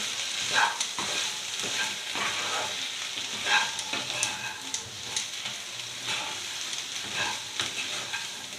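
Prawns and brinjal fry with salt in a pan, giving a continuous close sizzle broken by repeated scraping and clinking strokes of a spoon stirring and tossing the mixture, with no one speaking.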